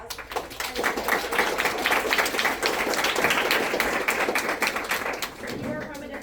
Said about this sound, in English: Let's give Mr. Sharp-Ober a round of applause.